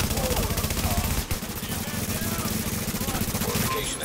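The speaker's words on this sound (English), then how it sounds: "Hostiles are firing on a fortification." Sustained automatic gunfire from hostile forces attacking a fortification in The Division, a dense rapid rattle of shots running nearly the whole time with one brief dip, loud and close amid game effects.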